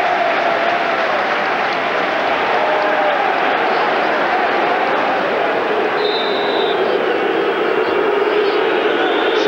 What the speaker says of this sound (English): To huge applause